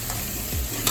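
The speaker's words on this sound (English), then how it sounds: "We are frying it." Blended tomato and onion sizzles steadily in a pan with a soft frying crackle, close and continuous, with a faint stir partway through.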